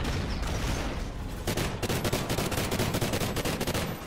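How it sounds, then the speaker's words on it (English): Sustained rapid automatic gunfire in a multiplayer shooter video game, a dense, loud burst of shots that runs almost continuously. "You shot about 25 bullets too many at that guy."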